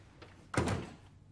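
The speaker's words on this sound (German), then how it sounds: "Tür zu!" A door is shut with a single solid thunk in a quiet indoor scene of a German radio crime drama, a short clear impact that fades quickly into near silence.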